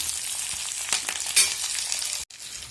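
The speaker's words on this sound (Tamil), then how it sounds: "இது வதங்கும் போதே கொஞ்சம் கருவேப்பிலை ஆட் பண்ணிக்கலாம் நல்லா வதங்கட்டும்" Curry leaves sizzle and fry in a pan of oil for hotel-style mango pickle, a steady crackling hiss with a few sharper pops, close and continuous.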